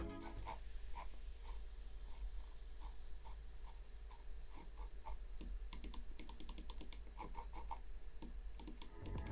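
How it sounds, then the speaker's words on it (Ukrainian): A cheap AJAZZ AJ179 wireless gaming mouse scroll wheel is rolled, giving a rapid run of small, close ticking clicks in uneven bursts over a steady low hum, with no talking. "Колесико цієї миші погане, воно відчувається супер дешево і при прокрутці має неприємний звук"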